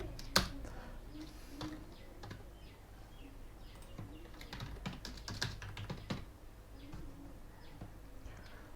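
Keys clatter steadily as PHP code is typed on a computer keyboard, close and fairly faint, in uneven bursts of quick taps with a few louder strikes and no talking.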